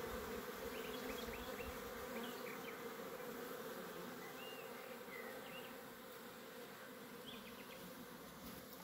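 Dense, steady buzzing of many honeybees returning with nectar and dropping onto the wooden flight board of a hive outdoors, a close continuous drone with faint individual wingbeat whines passing near.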